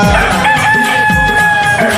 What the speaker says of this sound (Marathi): 4 वाजले कोंबडा आरवला